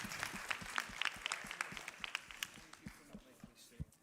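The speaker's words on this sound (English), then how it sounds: "Let's give a big round of applause." Audience applause at a startup festival pitch competition, faint and distant, made of scattered individual claps that thin out over a few seconds, with some voices mixed in.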